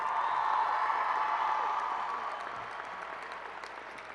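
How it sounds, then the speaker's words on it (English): A crowd at the 2016 Wilson High School graduation applauds the staff, a dense, steady roar of clapping that gradually fades over a few seconds. "could you give a round of applause to the entire staff,"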